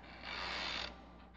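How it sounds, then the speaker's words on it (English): A chair squeaking in the video game Hidden Silence, one drawn-out, faint mechanical creak that swells and fades over steady low background hum, heard alone without speech. "It's the chair squeaking."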